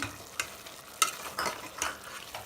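Gongura chicken curry frying in a pan, a soft continuous sizzle broken by several sharp scraping stirs of a spoon against the pan at irregular intervals.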